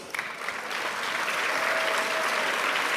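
Sustained audience applause from a hall crowd after a talk, a dense steady clapping that holds loud and even throughout with no pause.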